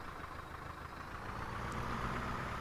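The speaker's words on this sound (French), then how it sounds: "c'est quand même un beau petit bruit de tracteur, un beau petit Fendt" Small, low-powered Fendt tractor engine idling, a quiet, even diesel hum that rises slightly partway through and continues without a break.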